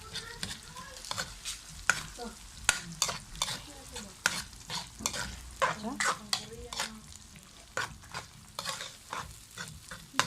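Canned sardines fry and get stirred and mashed in a pan, with a constant sizzle broken by frequent sharp scrapes and taps of a utensil against the pan, close up and busy throughout.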